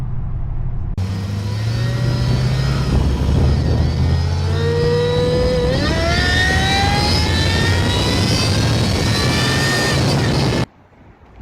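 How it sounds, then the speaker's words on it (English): A supercharged Jaguar S-Type R fitted with Dynamax Super Turbo mufflers and its supercharger silencers removed cruises at about 70 mph, giving a loud, steady drone with a rising whine partway through, then cutting off abruptly near the end. "This car was way too quiet stock, so I had to Americanize it. Dynamax Super Turbo mufflers, and I had to take out the silencers on the supercharger."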